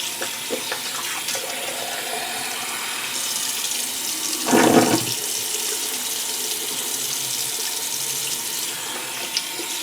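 Water runs steadily from a bathroom tap for rinsing after a shave, a constant hiss with a brief louder splash midway as hands or a face meet the stream.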